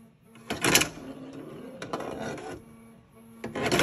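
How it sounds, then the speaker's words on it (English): Mechanical whirring and clicking bursts from a running 3D printer, rising and falling in short stretches at moderate volume, with no talking. "Pardon the noise of my 3D printer in the background."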